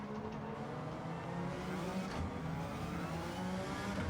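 A Suzuki Escudo Pikes Peak race car in Gran Turismo 7 holds sixth gear under power, its engine a loud, steady, harmonically rich drone that builds slightly without a break.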